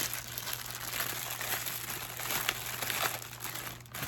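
A plastic bag crinkles and rustles softly up close as a part of a trapmate trap is pulled out of it, continuous quiet crackling with no talk.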